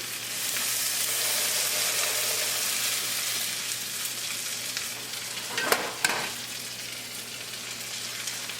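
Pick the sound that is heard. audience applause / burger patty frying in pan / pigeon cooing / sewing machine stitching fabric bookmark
burger patty frying in pan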